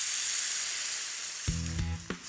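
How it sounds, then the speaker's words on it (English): Butter is whisked into a red wine sauce in a pan, a steady bubbling sizzle overlaid near the end by short scraping whisk strokes with a brief squeaky tone, close and clear, no speech. "we'll just whisk that small amount of butter in"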